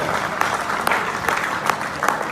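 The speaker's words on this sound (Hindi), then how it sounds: "ताली हो जाए सबके लिए जो खा रहे हैं" An audience at a network-marketing meeting claps steadily, a dense burst of applause with sharp individual claps standing out and faint voices beneath.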